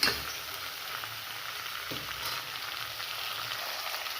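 Ridge gourd and split lentils frying in a hot pan give off a soft, steady sizzle, fairly quiet and unbroken, with a faint stir or scrape partway through.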